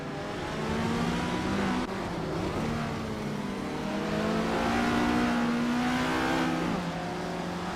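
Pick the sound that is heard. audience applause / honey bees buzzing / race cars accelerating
race cars accelerating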